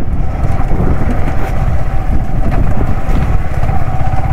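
Motorcycle engine on a ride along a rainy road, a loud steady droning rumble with rough low-end buffeting, continuous throughout with no talking.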